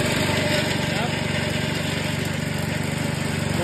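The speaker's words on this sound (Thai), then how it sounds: "เครื่องยนต์เป็นมิตซูบิชินะครับเอาเครื่องให้ดูเลย" A Yoshi water pump driven by an original Japanese Mitsubishi engine runs steadily nearby, giving a constant rapid mechanical chug with a high whine above it and no break in its rhythm.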